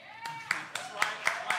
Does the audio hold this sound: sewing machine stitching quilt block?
no